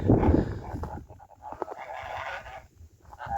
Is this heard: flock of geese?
yes